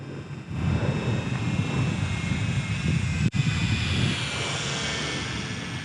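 Small Eachine Mini P-47 RC warbird plane flying slowly in wind, a steady electric motor and propeller whine heard at a distance under wind noise, with one brief dropout partway through.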